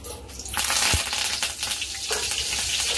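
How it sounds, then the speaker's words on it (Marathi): A pinch of asafoetida and curry leaves dropped into hot oil crackle and sizzle loudly and close, a steady frying hiss with sharp pops near the start. "गरम झाले आपलं मस्त, त्याच्यात मी थोडीसं हिंग टाकते 1 चिमूट आणि कढीपत्ता।"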